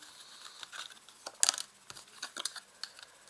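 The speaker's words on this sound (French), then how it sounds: "Alors, je vais rajouter des cartes." Tarot cards being handled and laid out, with soft papery shuffling, slides and light crinkling taps in quick irregular bursts, close but quiet, without voices.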